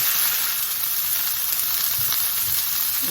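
Chicken pieces brown in a hot pan, giving a loud, steady, close sizzle with a constant hiss and occasional crackles throughout.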